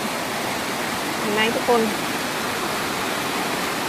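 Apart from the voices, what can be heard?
mountain stream flowing water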